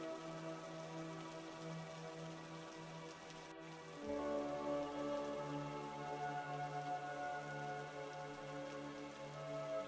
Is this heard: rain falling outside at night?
yes